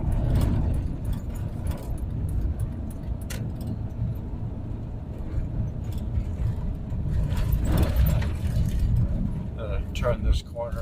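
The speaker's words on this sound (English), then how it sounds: "Turn this corner and step on it a little bit so you can kind of see the spool up" A twin-turbo truck accelerating around a corner with turbo spool-up: steady loud engine and road rumble throughout, swelling slightly near the end under cabin noise.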